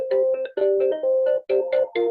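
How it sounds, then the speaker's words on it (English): A mobile phone ringtone plays a bright, repeating electronic melody in short looping phrases, loud and clear, with no voices over it. "That's somebody's phone."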